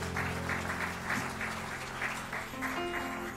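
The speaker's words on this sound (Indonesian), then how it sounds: "Berikan tepuk tangan dulu buat Tuhan, boleh?" Church congregation applauding, steady dense clapping from a crowd throughout, moderately loud with no speech over it.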